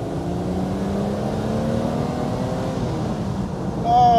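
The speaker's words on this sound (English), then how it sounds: "it's now time for us to give this beautiful Z1 some beans. Second gear," BMW Z1 roadster pulling hard in second gear on an empty road, a steady droning engine note with rising harmonics as it accelerates, loud and close throughout.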